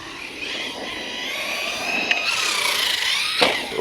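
A cheap FTX RC truggy runs at full throttle, its electric motor a high, wavering whine that rises in pitch as it speeds up, with a couple of sharp knocks near the end.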